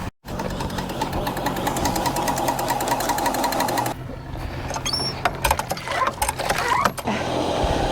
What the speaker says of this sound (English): Hold on, this pump is going.